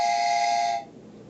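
A small toy Thomas the Tank Engine train whistle gives one steady, bright, shrill toot lasting under a second, loud and close, then cuts off into quiet room noise.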